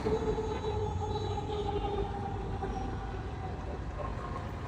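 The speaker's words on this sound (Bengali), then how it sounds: "ট্রেন যাচ্ছে একটা।" A train passing at a distance outdoors, a steady low rumble with faint tonal hum that holds evenly and fades slightly toward the end, with no talk over it.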